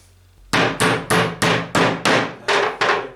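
Eight sharp hammer blows drive a small nail into the wooden floor of a Layens beehive, each strike loud and close with a short ringing decay, falling at a steady, slightly uneven rhythm after a quiet start.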